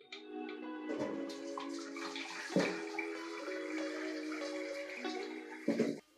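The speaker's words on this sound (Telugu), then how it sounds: "ఇలా నీటిని అంతా వడబోసేస్తున్నాం చూడండి" Water from boiled beetroot is poured and strained off, a continuous close splashing and trickling flow with a few louder gurgles and sloshes.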